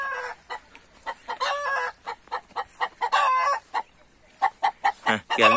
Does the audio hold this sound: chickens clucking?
yes